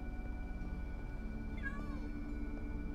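A cat meows once inside the Minecraft video game, a short gliding call rising then falling over a steady hum of game music and background tones.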